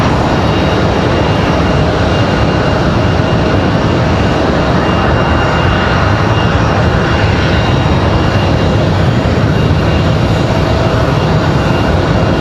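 A Piedmont Airlines Embraer ERJ regional jet departing Raleigh-Durham for Philadelphia produces a loud, close, unbroken jet roar that stays steady from start to finish, with no speech.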